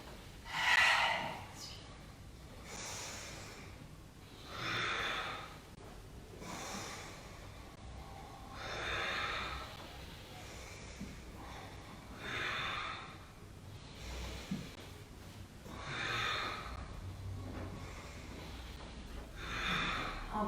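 Slow, deep breaths in and out during a yoga exercise, each long airy inhale and exhale rising and fading in a steady rhythm, close and alone without talk.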